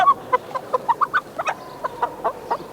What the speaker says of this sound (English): it just so happens that we've got a chicken here